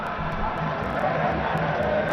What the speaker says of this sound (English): Cheering, enjoying the cricket.